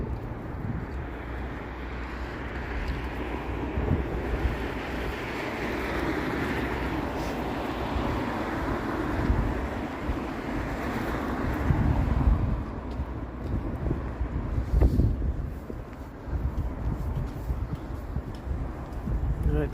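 Steady wind gusting along Front Street in downtown Toronto on a cold March day, a broad continuous roar with rumbling buffeting against the microphone that swells and eases without pause.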